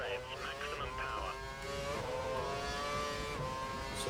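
Formula 1 car engine at full revs in the video game F1 2012, a Caterham at the Bahrain Grand Prix, giving a steady high-pitched whining drone with rising and falling gear sweeps, fairly quiet throughout.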